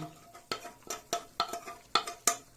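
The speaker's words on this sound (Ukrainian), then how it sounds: "Перемішаємо легонько такого, ось такого." A spoon stirs fried onion and paprika in a pot, giving a handful of sharp scraping knocks against the metal at an uneven pace, close and fairly quiet.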